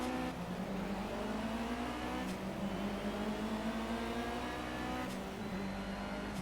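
A race car in Project Cars pulls away from the start on a foggy track, its engine droning loud and steady with a climbing pitch that resets twice as it shifts up through the gears.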